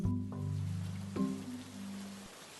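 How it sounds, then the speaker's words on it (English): Rain falls in a soft continuous hiss, faint and steady, layered under low sustained musical tones that shift twice before fading out. "Rain."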